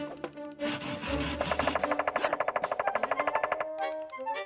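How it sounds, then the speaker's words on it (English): A cartoon woodpecker pecks at a log in a rapid, even drumming burst of hard wooden knocks lasting a few seconds, with other cartoon sounds and music around it and no voices. "Why does it keep banging its head against the logs like that? I believe this is a woodpecker."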